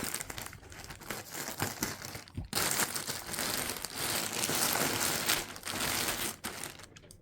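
Continuous crinkling and rustling of plastic packaging, close and fairly loud, with brief pauses as the wrapper is handled and torn open.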